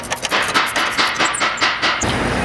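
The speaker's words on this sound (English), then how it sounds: "So now we grab our 17mm socket and ratchet, and we'll place it on the bolt that houses the caliper bracket" A 17 mm socket and ratchet loosen the caliper bracket bolts on a car during a brake pad change, making a quick series of close, sharp metallic clicks that end in a brief pause.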